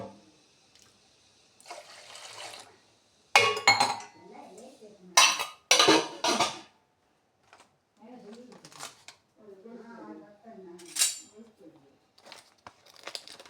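Custard powder being mixed into milk in a cooking pot, with a spoon clinking and scraping against the metal in irregular bursts, some louder knocks and quieter stirring between them, and a voice speaking briefly.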